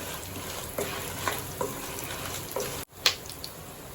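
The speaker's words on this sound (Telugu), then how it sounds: "కూపు సామాన్లు వేసేసుకుందాం. ఆవాలు, మినపప్పు, ఎండుమిరపకాయలు," Mustard seeds, urad dal and dry red chillies fry in hot oil for a tamarind rice tempering, a steady close sizzle with a few light crackles and a sharp scrape near the end.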